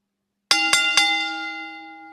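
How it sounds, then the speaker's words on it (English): Ceremonial bell struck three times in quick succession, each clear metallic ding ringing close and loud, then left to sustain and fade slowly after the last strike. "ring the ceremonial bell and get us out of the ring"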